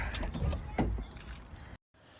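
Keys jangle as a car is unlocked and opened, a close, busy metallic clatter lasting under two seconds before a brief silence, with faint background voices.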